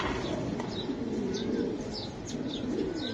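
Racing pigeons coo in a loft with soft repeated throaty pulses and light chirps over a dense background murmur, moderately close, with no clear speech.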